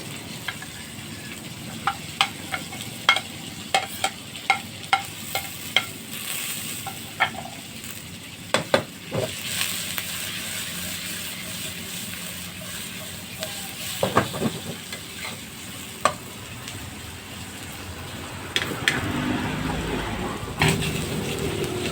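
Tomato and galangal fry in a pan for tom yum soup, with a soft continuous sizzle and sharp, irregular clacks of a utensil stirring against the pan; no talking.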